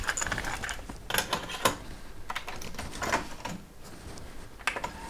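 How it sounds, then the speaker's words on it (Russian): An Akai cassette deck whirs through a fast rewind of a chrome Akai GX90 cassette, a close mechanical whine with ticking and clicking bursts from the transport, heard alone without any voices. "Вот звук перемотки Akai мне нравится."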